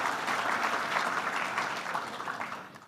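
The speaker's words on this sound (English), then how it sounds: "A little round of applause, thank you." Audience applause at an ethical finance awards ceremony, a full round of steady clapping from a large crowd that fades away at the end.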